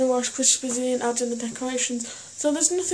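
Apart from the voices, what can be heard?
No everyday noise stands out behind the speech.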